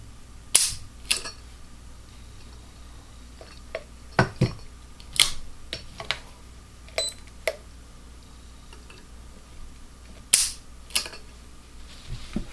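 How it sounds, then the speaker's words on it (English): Sharp dry clicks of a Taurus pistol's hammer falling on single-action trigger pulls, a few distinct snaps spaced seconds apart with faint mechanical handling noises between, close and quiet. "Now I'm going to do 3 single action trigger pulls."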